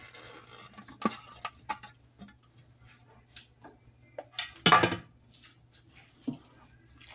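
Eggplant and okra with coconut cream are stirred in a pot for utan bisaya, with scattered utensil clinks and scrapes against the pot, one louder knock midway, over a quiet low hum.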